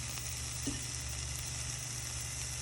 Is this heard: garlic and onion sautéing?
yes